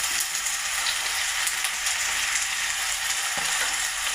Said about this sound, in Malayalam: അതിന് വഴറ്റി കൊടുക്കാം.